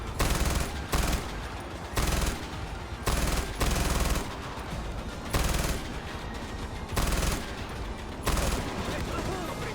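Loud, close gunfire from the video game Far Cry 4 comes in repeated rapid bursts, each lasting about half a second to a second, over a steady din of game sounds.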